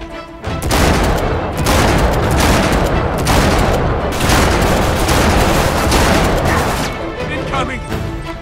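Loud, dense gunfire and explosions in Uncharted 3: Drake's Deception, a third-person shooter game, with rapid volleys and booms filling the scene almost without pause while voices talk over the chaos.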